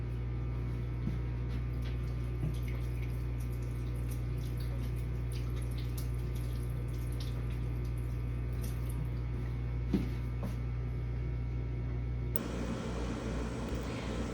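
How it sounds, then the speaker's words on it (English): Hands are washed under a running kitchen tap while making zucchini bread. A steady, even rush of water continues through most of the clip, then shifts abruptly near the end. "let me wash off my hands"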